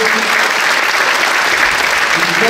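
An audience applauds after a wind band concert in a theatre, with a dense, steady roar of clapping from many hands.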